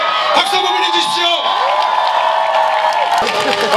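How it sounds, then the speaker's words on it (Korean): An outdoor presidential campaign rally crowd in Sinchon, Seoul, cheers, whoops and applauds loudly and continuously, with shouting voices rising through the roar. "박수 한번 보내주십시오"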